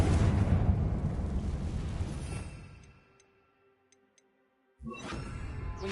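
A Confringo fire explosion spell in Hogwarts Legacy, a loud roaring blast and crackling burn that fades over a few seconds into near silence with faint ticks, then another loud burst cuts in.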